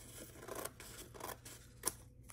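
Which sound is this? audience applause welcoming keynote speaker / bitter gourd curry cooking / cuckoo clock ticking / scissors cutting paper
scissors cutting paper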